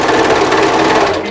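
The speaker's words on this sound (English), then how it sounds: "I'm gonna sew this one with a 1/4 inch seamless" A sewing machine stitching a cardigan seam with a quarter-inch allowance, a loud, close, rapid mechanical whir of needle strokes running steadily through the brief burst before slowing slightly at the end.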